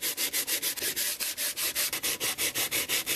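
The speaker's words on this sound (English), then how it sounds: "you're going to be sanding down something but you don't want to take all the varnish off" Hand sanding of varnished wooden furniture with fine sandpaper, a steady rhythmic scratching of regular back-and-forth strokes, close and fairly loud, with no voices.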